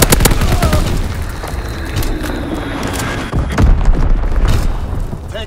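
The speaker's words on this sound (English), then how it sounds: "Enemy bomb incoming! Get to cover!" Enemy bombs explode in the Call of Duty WWII game: loud, dense booms and rumbling blasts continue for several seconds, mixed with rapid gunfire crackle.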